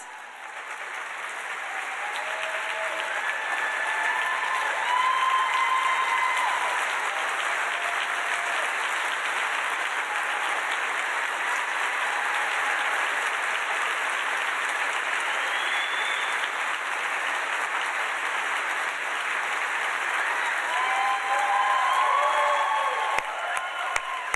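An audience claps steadily for performers at a benefit program, a dense, even wash of applause sustained for over twenty seconds with a few scattered cheers and whoops.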